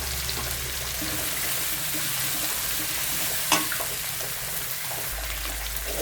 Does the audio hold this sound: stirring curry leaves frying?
yes